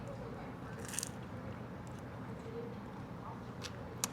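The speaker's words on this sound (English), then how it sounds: "it's going to give it that nice little crunch bite as soon as you go into this thing with full teeth on this one" A crisp bite into a sugar-crusted fresh apricot pastry from a bakery gives a short crunch about a second in, then a faint click near the end over steady low background noise.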